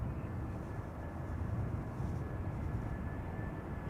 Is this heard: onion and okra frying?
no